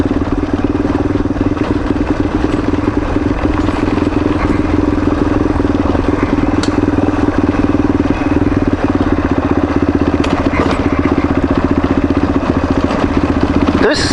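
A motorcycle engine drones steadily and loudly throughout a ride on a forest service road, with a constant low rumble and occasional clatter from the gravel surface.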